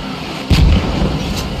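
An artillery round fires with a single heavy boom, a sudden low thump that rolls off over about a quarter second, heard at a distance with no talking.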